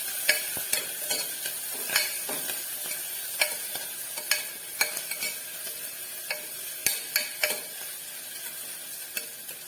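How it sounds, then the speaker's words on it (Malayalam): Sliced onions and slit green chillies sauté in coconut oil in a cooker for a vegetable kurma, with a steady close sizzle and frequent scraping, clinking stirs of a spoon against the pot, no talk. "വലിയ ഉള്ളിയും പച്ചമുളക് കീറിയതും കൂടി ചേർത്ത് നന്നായിട്ടൊന്ന് വഴറ്റിയെടുക്കാം"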